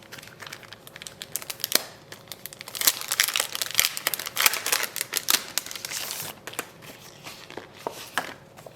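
Erin Condren planner sticker sheets being handled and crinkled up close, a steady run of crisp rustling and sharp crackles with no talking, growing louder through the middle.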